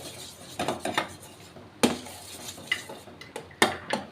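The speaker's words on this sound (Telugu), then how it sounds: "మీడియం ఫ్లేమ్లో పెట్టుకొని మనం కలుపుకుంటూ ఉండాలండి. మధ్య మధ్యలో నెయ్యి వేసుకుంటూ కలుపుకోవాలి." A spoon scraping and knocking against a pan while almond halwa cooks in ghee, with irregular clinks and taps in a series of close stirring strokes, no talk.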